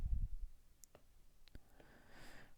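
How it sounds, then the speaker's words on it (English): A few sparse, quiet clicks of keys being pressed on a calculator in a maths lesson, isolated taps spread over a couple of seconds against a faint background hiss. "that's just a matter of typing that into the calculator"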